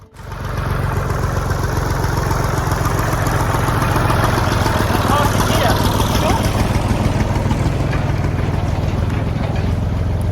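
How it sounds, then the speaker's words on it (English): A steady, low tractor engine rumble runs throughout at constant loudness, like the tractor idling or moving slowly nearby. "Tractor's on the way."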